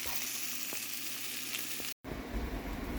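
Hash browns frying in a pan give off a steady, close sizzle with a couple of small crackles, broken by a brief gap and then a louder, busier sizzle, as if they were just flipped or stirred.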